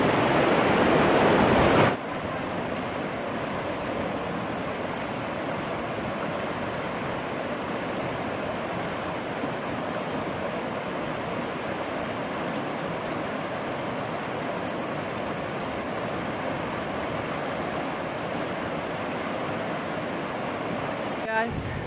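A strong river current rushes near the Curug Cihear waterfall in Lebak, Banten, a loud, steady broadband roar that runs unbroken for over twenty seconds, with a brief louder burst at the start.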